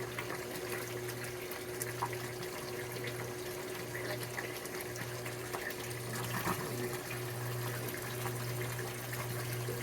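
Water drains steadily out of a flood-and-drain hydroponic tray through a running siphon, a soft continuous gushing and trickling over a faint, low mechanical hum, fairly quiet and unbroken throughout.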